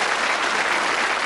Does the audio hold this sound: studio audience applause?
yes